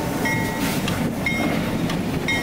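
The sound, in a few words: freight train on the Delaware & Hudson line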